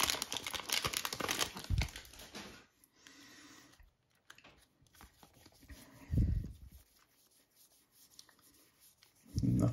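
Foil wrappers on 2020 Bowman Draft Bowman Chrome baseball card packs crinkle and tear in close bursts, a long rustle at the start, another around the middle and a final burst at the end, with quieter handling in between.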